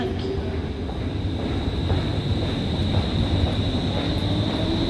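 Steady rumble of a train in a Stockholm subway station at Karlaplan, Östermalm, a loud continuous roar with a high whine running through it for the whole stretch, with no talking.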